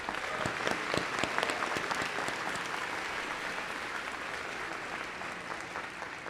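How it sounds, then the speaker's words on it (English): Commencement audience applauding steadily for about six seconds, dense clapping with a few sharper claps standing out early, then holding at an even level throughout. "So let's have a round of applause for him."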